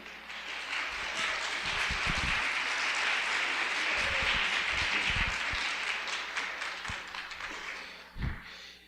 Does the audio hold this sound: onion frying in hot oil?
no